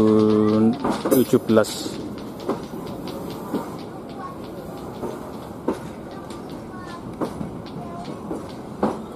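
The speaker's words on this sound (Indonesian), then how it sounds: "belakang sendiri ini ada gerbong bagasi kargo" Train carriages moving at the Surabaya Gubeng rail depot, with a clattering start followed by steady rumbling and scattered clicks and clanks of rolling stock. A voice speaks over it.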